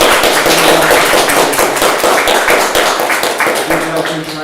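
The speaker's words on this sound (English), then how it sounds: "let's do a big round of applause" A room of listeners applauding at the end of a talk about bats, a loud, dense wash of clapping hands that stays close and sustained, easing only slightly toward the end.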